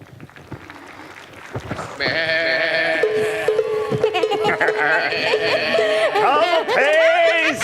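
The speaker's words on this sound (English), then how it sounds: "Oh, I will fetch up your goats, Audrey." Goats bleating at an outdoor Shakespeare performance of As You Like It in a grove, several wavering, nasal bleats layered over one another, loud and close, mixed with actors' voices and some background stage noise.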